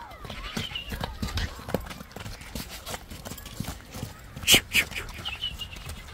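Horse hooves clip-clop at a steady walking pace, fairly close, with a neigh-like burst and a few bird or rooster calls around them while people talk in the background.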